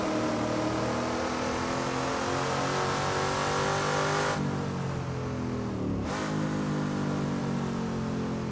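A racing car engine in the Assetto Corsa GT Legends mod revs hard at high RPM, a loud continuous buzzy whine climbing in pitch, cut by two sharp gear-change dips before rising again.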